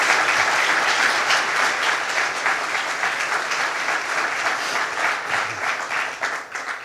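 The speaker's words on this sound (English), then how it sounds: "Rose Harvey, let's give her a round of applause" Audience at a state park announcement at Sunken Meadow State Park, New York, breaking into loud sustained applause, dense clapping that tapers slightly toward the end.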